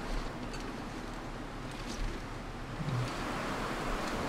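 A waterfall in the video game The Long Dark produces a steady, broad rushing roar that stays even and continuous, heard at a moderate distance with no talking.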